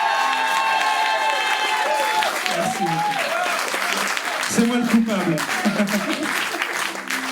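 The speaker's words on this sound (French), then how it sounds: "j'aimerais qu'on fasse un tonnerre d'applaudissements" Audience applause at a live music show, a sustained crowd clapping with scattered cheers while someone speaks briefly over it on a microphone.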